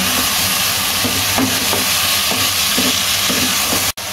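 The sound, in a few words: spices and meat being stir-fried in a wok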